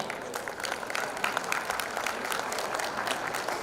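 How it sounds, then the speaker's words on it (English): A steady round of applause from the crowd at a school prize day in Jeddah for an assistant house captain, many hands clapping in a dense, even wash for nearly four seconds. "A loud round of applause, the audience"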